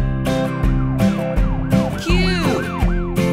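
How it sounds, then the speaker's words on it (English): A police car siren wails loudly in repeated rising and falling sweeps, layered over a rhythmic musical backing with steady low tones. "pa, police car"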